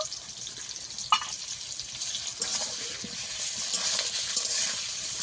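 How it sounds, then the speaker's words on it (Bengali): Potatoes and ginger paste frying in a pan give a soft, continuous sizzle, with scraping stir strokes and a sharp clink near the start, gradually getting louder. "আদা বাটা দিয়ে আমি কিছুক্ষণ কষিয়ে নেব"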